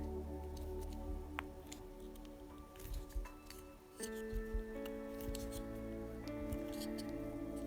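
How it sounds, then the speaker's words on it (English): Small bearings pushed into the plastic rear suspension of a Blockhead Motors HotShot II RC car, heard as quiet clicks, ticks and light squeaky pressing sounds at close range, with a few faint tonal rings. "We need to push these bearings in."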